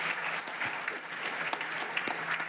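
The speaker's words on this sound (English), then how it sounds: "Let's give Donna a round of applause" Moderate applause fills an audience at the Oklahoma Higher Education Hall of Fame induction ceremony, a steady patter of many hands clapping at medium distance, with a few sharper individual claps standing out.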